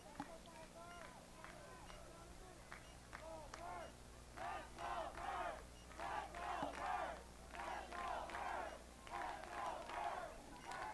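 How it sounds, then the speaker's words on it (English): Crowd at a women's college lacrosse game, Carthage against UW-River Falls, cheering and yelling in rising, swelling waves, loud and sustained over a steady background hum. "The crowd getting into it, as you can hear in the background."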